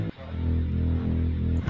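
A synth bass pluck from an electronic music track, part of a beat built during a producer showdown, sounding as a sustained low, harmonically rich tone for under two seconds with a brief dip near the start and no talk.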